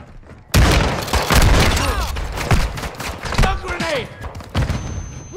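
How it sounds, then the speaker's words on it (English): A stun grenade bursts with a sudden loud bang in Call of Duty Modern Warfare 2, followed by ringing, gunfire-like cracks and chaotic battle noise. "Stun grenade!"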